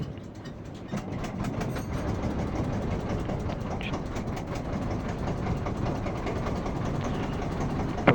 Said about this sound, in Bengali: এই মেশিনে স্টার দিল